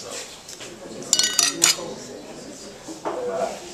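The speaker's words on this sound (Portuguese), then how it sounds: "Fazer um brinde com a Giulio Ferrari só traz coisas boas." Glasses clink in a toast with Giulio Ferrari sparkling wine at a sommelier event: a cluster of bright clinks midway, a few scattered lighter taps around it, and faint voices in the background.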